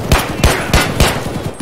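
Four loud, sharp gunshots in Escape from Tarkov ring out in a quick, evenly spaced burst, close and punchy with a short echoing tail after each.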